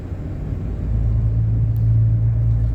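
Car driving along Ranch to Market Road 2243 near Crystal Falls and Rancho Sienna, heard from inside as a steady, loud low rumble of engine and road noise that swells slightly midway and continues without a break.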